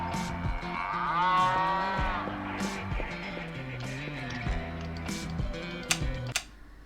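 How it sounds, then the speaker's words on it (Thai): A video game cow in Happy's Humble Burger Barn moos loudly in long, drawn-out calls over a rhythmic electronic background, with a few ticking clicks near the end. "เสียงมันมาจากวัวตัวนี้นะครับ"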